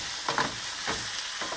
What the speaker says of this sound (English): The onions and celery is sweating nicely.